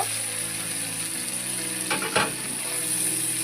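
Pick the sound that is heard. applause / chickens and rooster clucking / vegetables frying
vegetables frying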